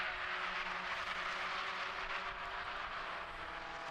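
Race cars in the 116 Sprint and 120 Coupe Cup cross the line at Brands Hatch Indy circuit, a steady broad engine roar that fades slightly as they pass, with no talk.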